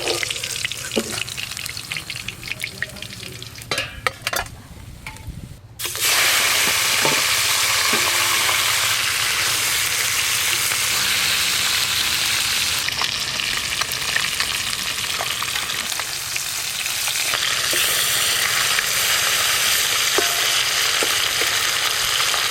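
Rohu fish pieces frying in oil, a loud, even, crackling sizzle that swells after a quieter start with clinks and handling, then holds steady and close throughout.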